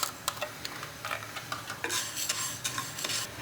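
Fenugreek seeds dry-roasting in a pan for carrot pickle, stirred so they scrape and rattle against the metal in quick bursts under a faint steady sizzle, close and fairly quiet with no talking.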